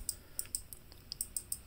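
A Logitech G915 TKL keyboard's clicky switches make a quick series of crisp, pen-like clicks, close and fairly quiet, with no talking.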